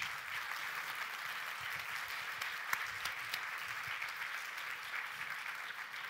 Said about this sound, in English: It's only applause here.